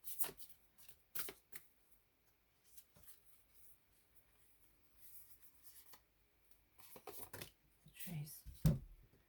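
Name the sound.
shuffling a deck of tarot cards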